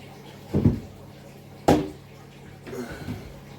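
A glass vivarium door is fitted into its runner: three separate clunks and knocks spaced about a second apart, the middle one sharpest, close by with a quiet room behind.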